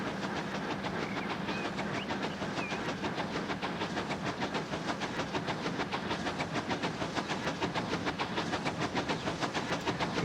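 A train in Transport Fever 2 runs steadily along rails with a regular, close clickety-clack rhythm over a constant rolling rumble and hiss, with no talk.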